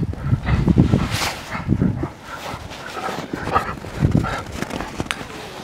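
Central Asian Shepherd (Alabai) dogs bark in repeated rough bursts close by, with whimpering and shuffling in between, and the barks rise and fall unevenly across the stretch.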